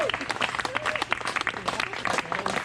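Guests at a party give a short round of applause, a modest group clapping in uneven, close bursts, with voices and chatter mixed in.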